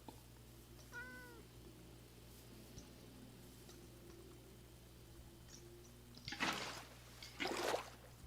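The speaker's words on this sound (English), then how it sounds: "Cat." A cat gives a single short meow, faint against a low background hum, followed several seconds later by two louder bursts of rustling noise.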